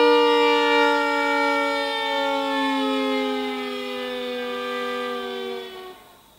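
Violin playing the tango sirena effect, two sustained notes sliding slowly downward together in a long dying glissando that fades out, loud, close and alone.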